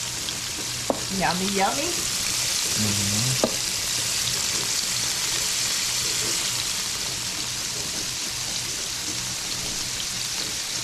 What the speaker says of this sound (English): Cook it up in the garlic